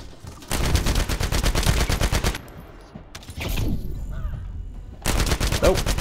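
Automatic gunfire in The First Descendant, two long loud bursts of rapid rhythmic shots separated by a pause with game effects, then a third burst at the end.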